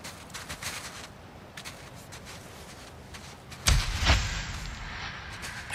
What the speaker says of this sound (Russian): Волки услышали выстрел.